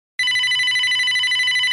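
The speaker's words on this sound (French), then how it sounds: "Allô, c'est qui? C'est le téléphone?" A telephone rings abruptly, a loud, bright electronic trill that starts suddenly and carries on steadily with a warbling pulse, close and alone, at a social bowling outing.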